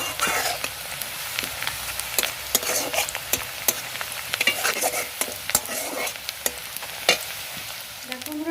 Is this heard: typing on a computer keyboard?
no